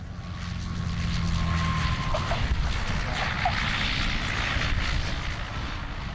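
Aircraft engine drone at busy Jersey airport during an airshow, a steady loud propeller hum that swells slightly midway, with no talking.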